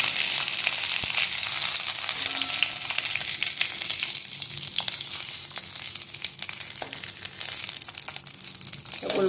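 Stuffed capsicum sizzling steadily in a pan over a low gas flame, a continuous soft fry with light crackles throughout and no talking.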